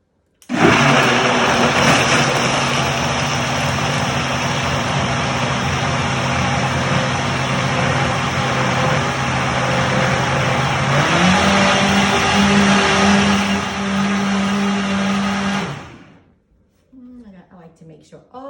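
A Vitamix blender blends a kale, avocado and moringa smoothie: a loud, steady motor whir runs close by for about fifteen seconds, shifts to a higher tone partway through, then cuts off, leaving a brief quiet tail.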